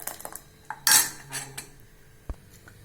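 Utensils clink against metal pots as vegetable barley soup is moved into another pot: a few sharp close clinks, one louder scraping clatter near the middle, then a final light tap.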